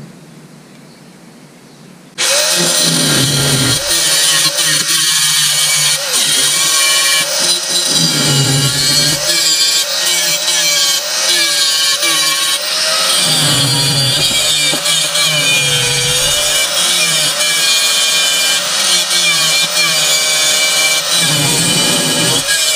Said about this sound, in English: I think we can just take the bolts out and grind them off